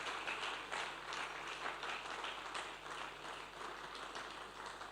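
An audience at a panel discussion on SMEs applauds steadily, a sustained patter of many hands clapping at moderate distance, fairly faint and continuous from start to finish.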